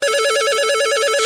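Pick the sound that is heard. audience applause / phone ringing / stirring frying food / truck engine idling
phone ringing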